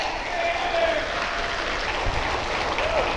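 Steady audience applause fills the clip, a dense wash of clapping at even loudness throughout with no break.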